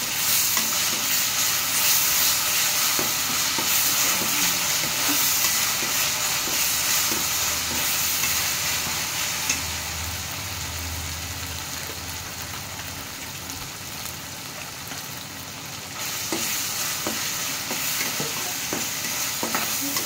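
Ginger garlic paste fries in hot oil for a chicken curry, a steady loud sizzle with scattered stirring clicks running throughout, no talking.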